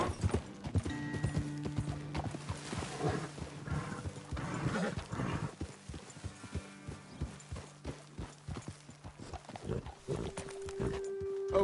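Horses' hooves clip-clop steadily across open ground in the Western video game Red Dead Redemption 2, close and fairly loud, with a low tonal drone and occasional other sounds mixed in, and no talking.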